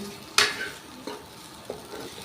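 Steamed bitter gourds (karela) are stirred in a pan over the gas, a few distinct scraping strokes against a faint background sizzle, close and without speech.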